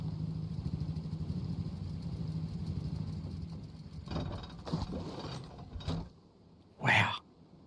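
Boat engines idle in the game Rust, a low steady mechanical drone running for about four seconds, then breaking into clunks and knocks before cutting out, followed by a brief louder burst near the end.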